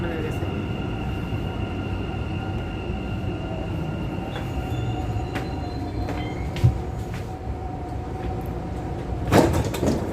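A metro train sits at a Dubai airport station with a steady low rumble and hum, brief clanks and a door sound near the end, while people talk nearby.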